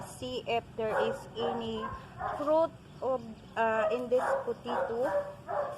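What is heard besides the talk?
dog barking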